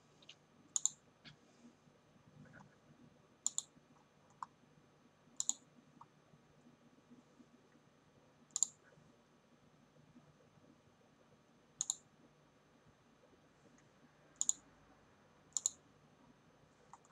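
Computer mouse clicking, seven or so sharp isolated clicks spaced a few seconds apart over a quiet room background.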